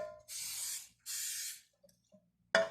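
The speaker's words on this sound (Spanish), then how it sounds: "Le vamos a poner aceite de spray" Cooking oil spray hits an 8-inch, 20 cm round cake pan in two quick hissing bursts, close and clear, followed by faint clicks and a short final spray.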